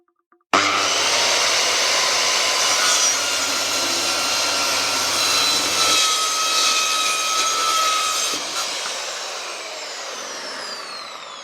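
Bosch GKS 190 corded circular saw cutting an 18 mm thick board: the motor starts abruptly into a loud, sustained whining roar, dips slightly as the blade works through, then winds down toward the end, with no talking.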